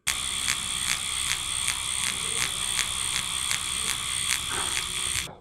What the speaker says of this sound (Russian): Вы сейчас слышали звук, который создается при длинном штрихе.